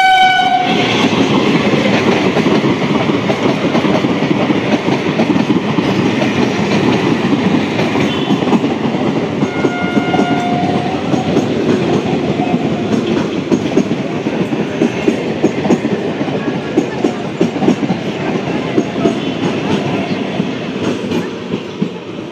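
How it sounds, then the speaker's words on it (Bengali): A long 12-coach Sealdah–Krishnanagar local passenger train rumbles steadily past close by, with continuous rolling clatter of wheels on rails and a brief horn note early on. "এটা চলে গেল 12টা 5-এর শিয়ালদা কৃষ্ণনগর লোকাল"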